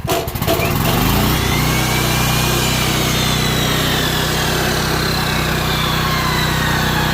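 A Harbor Freight 195 welder generator's engine running steadily and then rising in pitch as a chop saw kicks on, giving a loud, continuous mechanical drone with no talking.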